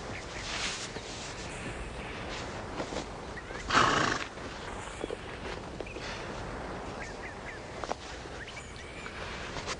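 A horse gives one loud, close neigh about midway through, set against a quiet outdoor background with faint shuffling hoof sounds.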